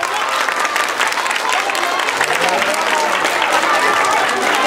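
A loud outdoor crowd claps for a contestant at a mojiganga festival in Tepalcingo, a dense, continuous roar of clapping mixed with chatter and voices.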